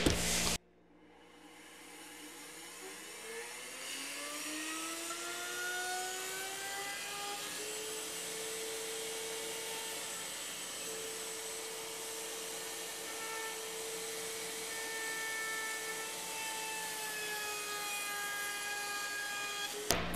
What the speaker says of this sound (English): we're just gonna line up our bearing of our router bit, our flush trim bit